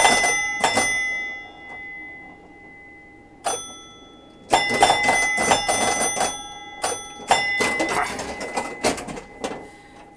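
Bells on a Williams Honey electromechanical pinball machine, including a large solenoid-struck bell, ring in sharp, metallic strikes with lingering tones, first sparse and then in rapid clusters amid clattering mechanism noise.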